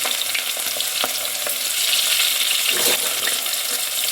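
Onion, two green chilies and salt sautéing in oil for a bitter gourd curry, giving a steady, close, dense sizzle with occasional stirring clicks throughout and no talking.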